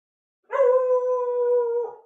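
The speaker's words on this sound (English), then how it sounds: "There's my dog." A pet dog lets out one long, loud, sustained howl from close by, holding a steady tone for over a second before trailing off, with silence before it and no talking.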